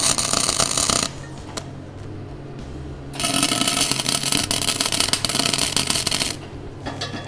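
Tack welds are laid on a steel Thor's hammer: a loud, close crackling hiss runs for about a second, stops, then returns in a longer steady burst of roughly three seconds before cutting off.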